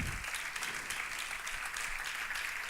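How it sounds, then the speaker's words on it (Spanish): A church congregation applauds to welcome a visitor, steady continuous clapping from many hands at moderate distance, without a break for the whole short stretch. "A ella le damos un aplauso de bienvenida."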